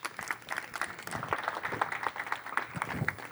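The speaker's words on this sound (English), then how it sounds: "Again, another round of applause to this team." A community meeting audience applauds a panel team, with many hands clapping in a steady, moderately loud wash that carries on throughout.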